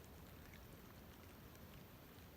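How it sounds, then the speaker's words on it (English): Faint, steady rain patter at Cedar Flow Lake, a soft continuous hiss of drops with no other sounds standing out. "as you can see or hear, it's raining"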